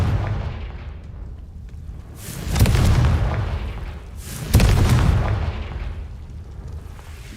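The Confringo fire spell in Hogwarts Legacy goes off in two heavy explosive booms a couple of seconds apart, each with a long rumbling tail over a constant low game background.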